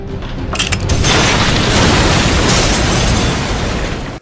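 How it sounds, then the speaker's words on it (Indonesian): A loud, close bomb explosion in a dormitory building booms after a few sharp cracks, then a sustained roaring rumble of debris that cuts off abruptly. "Bom yang telah terpasang di beberapa bagian ruangan asrama meledak."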